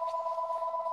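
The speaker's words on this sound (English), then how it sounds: "Sorry for my phone ringing." A telephone ringing with a steady electronic two-tone trill that pulses rapidly and evenly, fairly quiet and alone.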